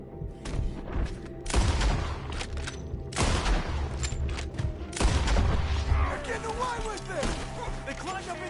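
Gunfire rings out in Red Dead Redemption 2, with heavy bursts and booming shots arriving in repeated volleys as a fight unfolds in a wooded area, loud and close, with shouting voices mixed in.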